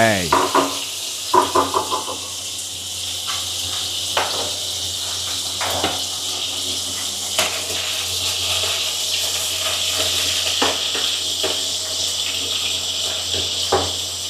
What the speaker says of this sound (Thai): พอน้ำมันร้อนใส่กุ้งลงไปค่ะ